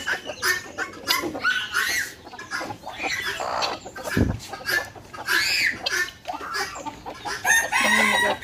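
Chickens on a free-range country poultry farm cluck and a rooster crows repeatedly, close and fairly loud, with a dense scatter of overlapping bird calls.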